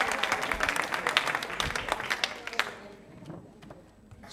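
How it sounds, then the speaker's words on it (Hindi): Spirited applause from the audience at a live quiz show, quick overlapping claps with sharp individual hits that thin out and trail off into quiet room noise, then a faint stir. "बाबू साहब तालियां जोरों से बजाइए साहब"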